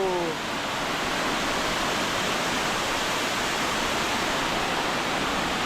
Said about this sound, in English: Yeah, on the back is the Crystal Shower Falls.